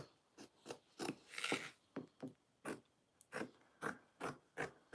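Fabric being cut with scissors for a sewing project, a dry rasping snip repeated about ten times in a steady rhythm, close and fairly quiet with no talk.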